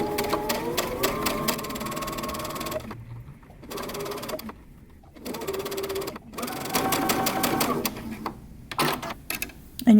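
A sewing machine stitches fabric for a dress made from Simplicity pattern 8174, running in several bursts of close, steady whirring with short silent pauses between runs.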